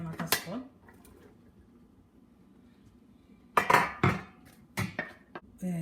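Metal pots and utensils clink and clatter on a stove in sharp bursts close by, with quiet stretches between the clanks, while courgette and cassava leaves are cooked in a saucepan.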